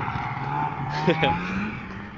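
A snowmobile at Houghton Lake, Michigan drives past, its engine whine rising and falling in pitch as it goes by at moderate distance, with voices nearby.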